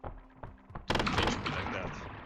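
A weapon reload in Cruelty Squad: a few light mechanical clicks, then a loud, sharp metallic clack that leaves a short, ringing tail.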